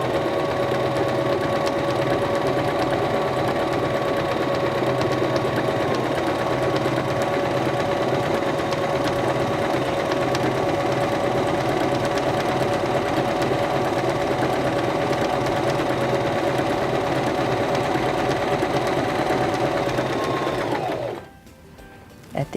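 A Singer Start 1306 sewing machine stitches fabric under the presser foot with a steady, close whirring hum that runs unbroken for about twenty seconds, then stops abruptly.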